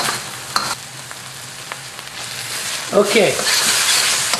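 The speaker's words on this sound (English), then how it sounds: "Now I'm going to cook this lemongrass for about 2 minutes in this sambal paste, and then I'm going to add the eel." Lemongrass frying in sambal paste in a wok sizzles steadily, with scraping stir strokes growing louder near the end while a voice speaks briefly.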